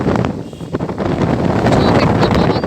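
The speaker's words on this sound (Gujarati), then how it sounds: "જો કેટલો પવન છે જોરદાર, વાવાઝોડું આવે છે." Strong gusting wind ahead of a storm in the forest at Sasan Gir roars and buffets the microphone in loud, uneven surges.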